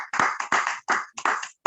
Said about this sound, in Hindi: सबसे पहले हम ताली बजा के परमेश्वर के दास का स्वागत करेंगे अपने स्थानों पे।